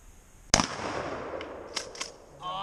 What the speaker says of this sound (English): Mossberg 500 goes through everything, never lets us down.